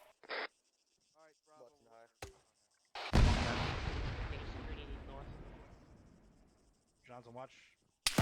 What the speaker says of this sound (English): Bravo, we're taking shots from the southeast.